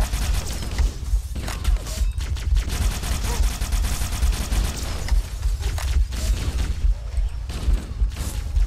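Sustained automatic gunfire from Halo: Combat Evolved, a dense run of rapid shots and booming hits with mechanical clatter, loud and continuous with brief gaps.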